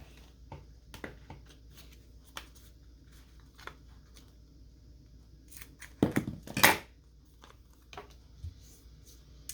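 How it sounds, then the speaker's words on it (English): Scissors snipping through double-sided foam tape while a tag is being made: a few soft crisp cuts, with a brief louder burst of cutting and handling close up in otherwise quiet surroundings. "have some scissors here."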